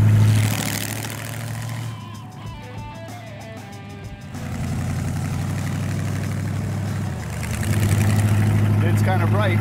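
Gasser wagon with a fresh motor idling, a loud, steady low rumble that drops briefly before returning stronger, with people talking over it.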